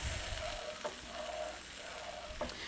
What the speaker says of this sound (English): Just going to stir it up.